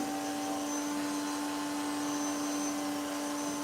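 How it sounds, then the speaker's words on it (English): A bee vacuum used to extract a honeybee colony during a hive cutout drones loudly and steadily, a constant whining motor hum with no breaks, close to the listener. "I got a loud vacuum in my ear"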